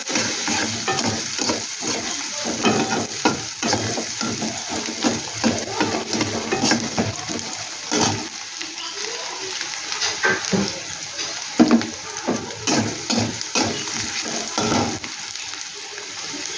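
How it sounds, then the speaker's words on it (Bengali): Onions frying and being stirred in a pan for a thin Bengali fish curry, a steady sizzle broken by repeated scraping stirs, close and continuous with no talking. "পেঁয়াজটা একটু ভাজা ভাজা করে নেব।"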